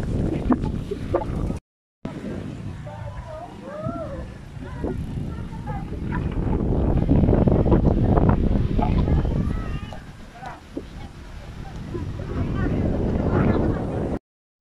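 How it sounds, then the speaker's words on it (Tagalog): Strong wind buffets the microphone in heavy gusts, rising and falling, with people talking underneath and a brief dropout near the start. "Napakalakas ng hangin."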